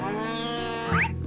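A cartoonish cat in Harvest Moon: A Wonderful Life lets out one short rising meow near the end, over steady game background music.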